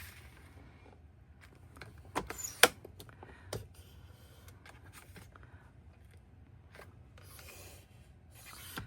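A sliding paper trimmer cutting printed paper for a scrapbook page, with soft rubbing slides of the blade carriage and a few sharp clicks and snaps, fairly quiet and close, with no talk.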